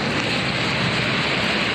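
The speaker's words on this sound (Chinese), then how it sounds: "因为雨势来得又快又大，水沟排水不及" Heavy rain pours down in a fast, intense downpour over a flooding road, a loud, dense and unbroken hiss that fills the whole clip.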